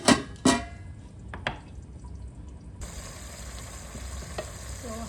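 Chicken pieces fry in a masala for a Pakistani chicken aloo salan, with a soft steady sizzle under a few clattering stirs at the start, and a brighter hiss takes over partway through.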